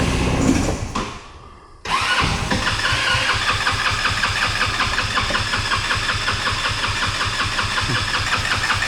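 A small engine freshly fitted with a new carburetor cranks briefly, falls silent, then catches and settles into a steady, loud, close idle with an even chugging beat.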